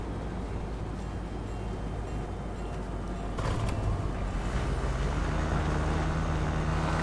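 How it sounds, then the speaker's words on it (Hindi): A motorbike in Fortnite drifts with a loud, continuous engine roar and grinding, creaky tyre scrape, swelling briefly midway; the sound is close and dense, with no talking over it. "ओए क्या मस्त बाइक ड्रिफ्ट कर रही हो"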